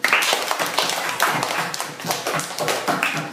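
Classroom applause for a first-year student who has just played a saxophone piece, a lively run of close, uneven hand claps from a small group of classmates that rises and dips over a few seconds.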